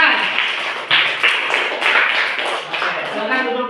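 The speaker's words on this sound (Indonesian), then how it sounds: "tepuk tangan buat temannya yang sudah mempresentasikan jawabannya" Classroom students clap for a classmate, a dense round of hand claps with a few sharper slaps standing out, recorded close and sustained for several seconds.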